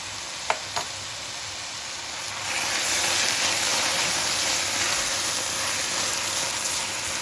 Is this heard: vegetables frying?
yes